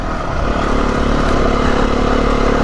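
A Beta 390RR dirt bike rides a Kent green lane over loose rocks, its engine holding a close, loud, steady drone with gravelly rumble underneath and no speech over it.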